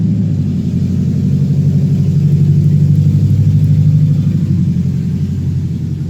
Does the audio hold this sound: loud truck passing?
yes